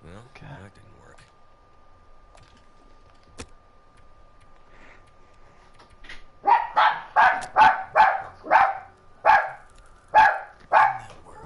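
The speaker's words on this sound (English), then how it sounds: "That's not my dog, I do not own a dog." Dog barking in a series of about ten sharp, evenly spaced barks, moderately close, following a quiet stretch with faint background noise.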